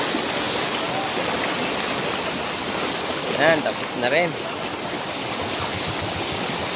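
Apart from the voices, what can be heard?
strong floodwater current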